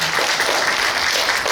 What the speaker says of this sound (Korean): 우리 4팀 참가자 모두에게 큰 박수 부탁드리겠습니다.